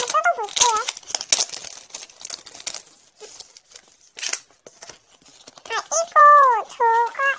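Plastic delivery packaging crinkles and rips as a parcel is torn open by hand, with bursts of crumpling between stretches of someone talking close by.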